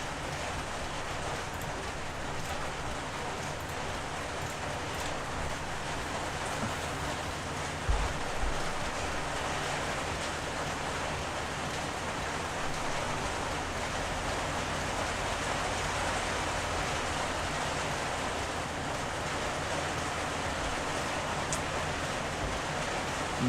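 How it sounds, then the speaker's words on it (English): Heavy rain falls in an Unreal Engine 5 sci-fi horror survival game, a steady broadband hiss of drops holding evenly throughout with one brief thump partway, no voices heard. "we are getting some heavy rain right now"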